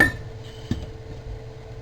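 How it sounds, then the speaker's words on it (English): A heavy lid is set onto a Dutch oven of baked beans, a single metallic clank with a short ringing hum in a quiet kitchen, with no speech. "Mr. Dutch oven lid on here."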